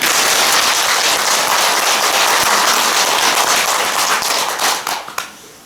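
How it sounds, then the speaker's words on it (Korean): Temple congregation clapping for two Buddhist monks after a New Year prayer service, loud, dense applause that holds steady and then tapers into a few scattered final claps. "우리 두 분 스님께 박수 한번 더."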